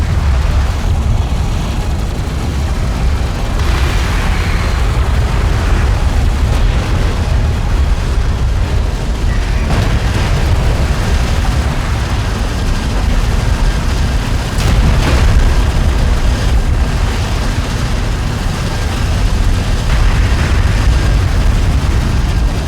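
Repeated heavy booms and rumbling blasts of vehicles being destroyed in the desert warfare strategy game Homeworld: Deserts of Kharak, a dense, loud, continuous battle roar with several sharper bursts rising above it.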